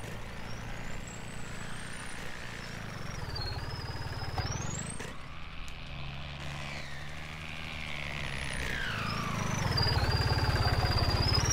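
A New Holland 3630 tractor engine in Farming Simulator 19 drones continuously under load, its pitch whining up and down as the revs fail to hold and then surging louder near the end, with no speech.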